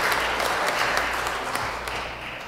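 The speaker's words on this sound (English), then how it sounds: "Let's give them all an applause just for being born." Episcopal church congregation applauding during a Sunday service, a broad patter of clapping under a faint low hum that tapers slightly toward the end.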